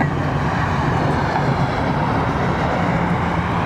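Airliner going around over Heathrow, a steady broad low roar of jet engines filling the whole stretch at constant loudness, with no talk.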